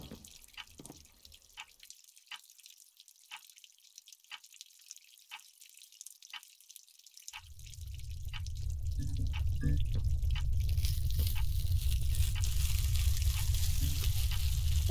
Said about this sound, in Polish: Woda kapie, jeszcze tam.